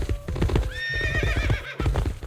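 A horse in Stronghold: Warlords, the Mongolian Horse Archer unit, gives a loud, close whinny over steady clip-clopping hooves, all within about two seconds.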